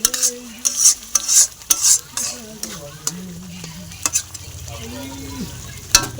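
Masala being stirred and sautéed with a splash of water in a pan, fish to follow: a soft steady sizzle under repeated scraping and clinking strokes of a spoon, close by, with a faint voice humming low in the background.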